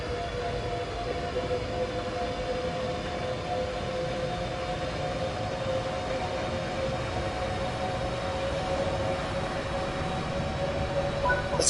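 A Class 395 Javelin high-speed electric train running at speed in the Train Sim World 5 video game, with a steady, even hum and faint tonal whine holding constant at a moderate level.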